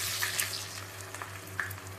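Onion goes into hot oil with cloves, black pepper, red chili and asafoetida, giving a faint, steady sizzle with a few soft crackles and a low hum beneath.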